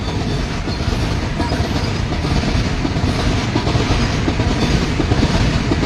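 A loud express train rumbles steadily past up close, its continuous roar and rattling wheels filling the whole clip with no pauses.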